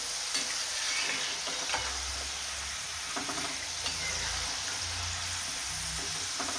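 Chana and moong dal fry in hot oil at home, giving a continuous soft sizzle with scattered pops and occasional scraping stirs against the pan, steady and moderately quiet with no talk.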